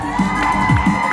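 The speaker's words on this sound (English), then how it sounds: "These were the strongest claps and yells and screams." At a talent and fashion show, a crowd cheers loudly with whoops, shrieks and yells for a contestant in a short, energetic burst.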